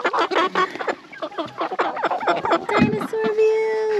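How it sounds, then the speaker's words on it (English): Backyard chickens on an off-grid homestead clucking and squawking close by, busy and overlapping, while a person talks over them and a higher drawn-out call rises near the end. "Watch that chicken."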